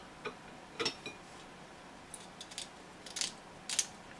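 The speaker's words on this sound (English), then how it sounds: "You can hear the part that's actually clicking is the part of the print that didn't work out quite right." Threads on a 3D-printed wrench, oiled with vegetable oil and flawed in the print, give a few sharp, isolated plastic clicks at irregular intervals. The clicks are close and fairly quiet against a faint background hiss.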